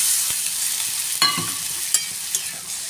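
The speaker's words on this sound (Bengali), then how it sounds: "এটাকে ভালো করে একটু নাড়িয়ে চাড়িয়ে নেব।" Parshe fish and vegetables being stirred in a pan for a light curry: a soft continuous sizzle with a few sharp spatula scrapes and clinks, close by.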